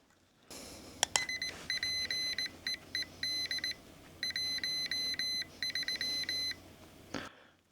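A series of electronic beeps from a Xiegu G90 radio's keyer add-on, Morse prompts announcing a setting, in short and longer bursts, fairly clear and steady, separated by brief pauses, with no voices.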